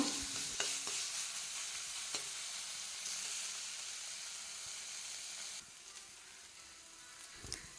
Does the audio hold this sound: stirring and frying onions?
yes